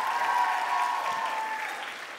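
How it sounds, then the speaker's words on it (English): Steady applause from a crowd at a classical dance recital, broad and sustained, slowly fading over a couple of seconds with no voices. "Alexis Barker and Mick Duff, please give them a big round of applause."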